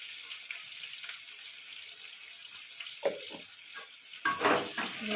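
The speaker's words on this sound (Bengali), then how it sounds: "এটা একটু ভালো করে ভেজে নেব।" Potatoes frying in a pan with salt and turmeric, stirred now and then: a steady soft sizzle runs throughout, with a few scraping stirs near the middle and a louder burst of stirring and clatter toward the end.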